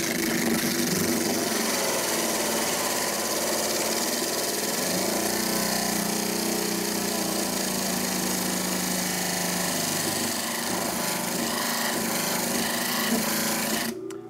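A calcite stone is pressed against a polishing machine to be ground flat, giving a loud, continuous abrasive grinding drone with the motor running steadily close by throughout.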